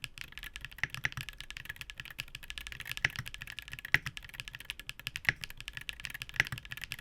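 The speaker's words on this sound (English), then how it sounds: "The Gateron Magnetic Jade Pros are the marbliest sounding Hall effect switches on the market." Typing on a keyboard with Gateron Magnetic Jade Pro Hall effect switches, a fast stream of soft, clacky keystrokes with occasional louder taps, close and quiet, without any talking.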